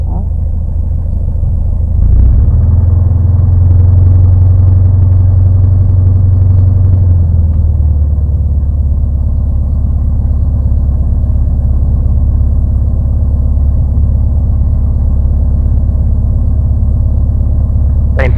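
A car driving and turning during a driving lesson, with a steady low engine and road rumble throughout, a brief rising tone near the start, and a voice speaking over the drive.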